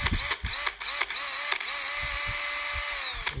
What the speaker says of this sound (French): pour vous montrer un exemple rapide sur une perceuse, ce que ça peut donner